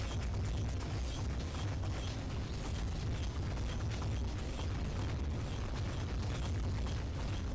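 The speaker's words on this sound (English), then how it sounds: "boss that just hovers around you and fires rockets at you" The hovering Doomball boss fires rockets in the shooter Tower of Guns, a dense, unbroken barrage of booms, pops and mechanical creaks that rattles on at a steady loud level across a circular arena, with no talking.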